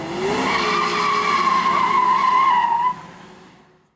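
A 1966 Ford Mustang V8 engine roars loudly past with squealing tires, the tone sliding steadily, then cutting off and fading away.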